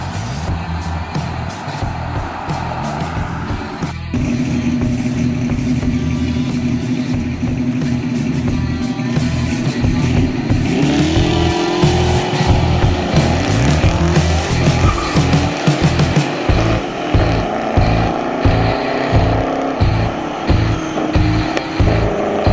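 A 1966 Shelby GT Mustang roars nearby, its engine revving and rising in pitch as the tires squeal and skid, loud and continuous over the whole stretch, with no talk.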